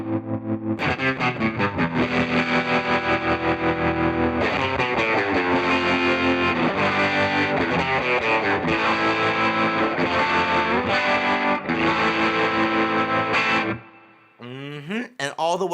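An electric guitar runs through a Seymour Duncan Fooz analog fuzz synthesizer pedal with a triangle-wave optical tremolo, like a blackface amp, giving a loud fuzzy tone pulsing in smooth regular swells before stopping, then brief strums follow.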